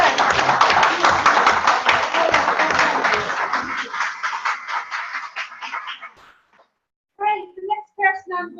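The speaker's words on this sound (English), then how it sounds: "Big round of applause for Louise." An audience gives Louise a big round of applause at a gathering: loud, dense clapping that fades out over several seconds. A voice speaks briefly after it stops.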